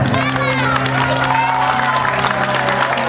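A crowd at an outdoor village festival claps and cheers, with whoops and excited voices over a music background, loud and close for a few seconds.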